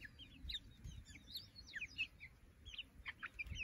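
A young hen chirps and tweets in quick high bursts close beside another chicken in a backyard coop, the calls scattered over faint low rustling, no voices.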